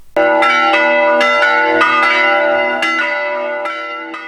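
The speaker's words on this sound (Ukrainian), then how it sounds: "Там полеглого воїна зустріли жалобні звуки дзвонів." Church bells toll at a soldier's funeral in Dubno, Ukraine, in a steady, mournful series of ringing strikes, resonant and fairly loud, each stroke fading into the next.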